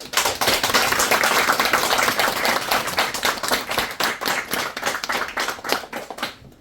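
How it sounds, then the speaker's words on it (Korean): Church congregation applauding to welcome a newly installed pastor at a retirement and installation service, a dense burst of hand clapping that thins into scattered, uneven claps as it fades out. "우리 모두의 마음을 담아 목사님을 따뜻하게 맞이하는 큰 박수를 부탁드립니다"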